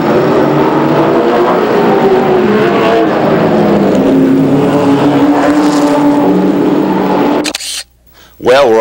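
Late model race cars racing at Raceway Park in 1992, a loud, continuous engine roar with shifting pitch under someone narrating, ending with a brief drop and a car passing.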